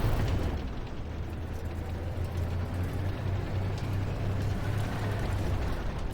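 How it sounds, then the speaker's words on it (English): Artillery round exploding in the tank game Armored Warfare, a deep, sustained rumbling roar with a heavy low-end drone that holds steady for several seconds, without voices. "There's the first artillery round. Many more to come."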